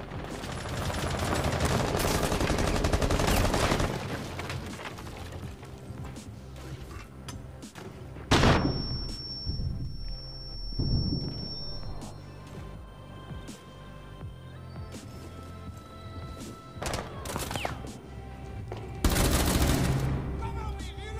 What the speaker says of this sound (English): Oh, we both fucking shot at them.